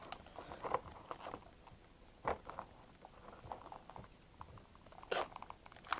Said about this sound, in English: So let's see if we can cut this open.